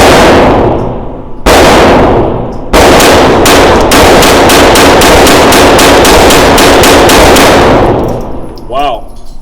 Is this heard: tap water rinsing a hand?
no